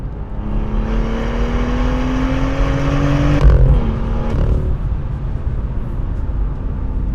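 An original BMW M2 engine climbs steadily in revs while driving through corners, a rising tonal drone over road and wind noise that peaks, then drops off as the throttle lifts or the car shifts.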